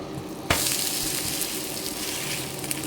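Adai batter pancake frying on a hot pan, a steady loud sizzle and hiss running throughout with a sharper burst near the start, no voices.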